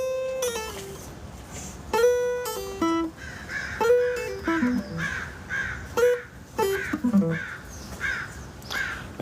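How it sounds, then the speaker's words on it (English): Several crows caw repeatedly in short bursts of harsh calls, fairly close and overlapping, with quieter cawing between. "As you can hear, there's crows."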